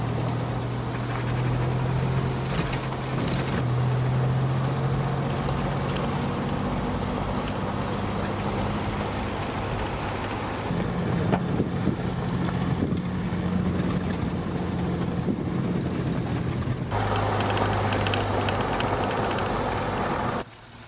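A vehicle engine drones steadily with rough rumbling and crunching road noise underneath as it moves onto a dirt road in California, shifting pitch as it drives along, no talking.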